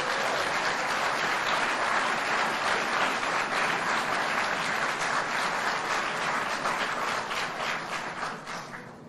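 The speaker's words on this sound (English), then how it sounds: "Maybe I could get some more applause." A large crowd at a business forum applauding steadily for several seconds, dense and loud, then the clapping starts to taper off at the very end.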